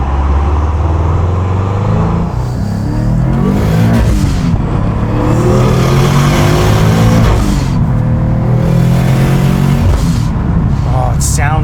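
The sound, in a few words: Subaru WRX with 424whp accelerating, exhaust revving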